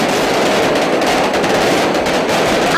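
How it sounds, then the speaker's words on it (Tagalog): Hundreds of small and large firecrackers go off together at a noon New Year celebration, a loud, dense, continuous crackling barrage of rapid overlapping pops with no pauses. "dito, tumagundong ang daang libong maliliit at malalaking firecrackers"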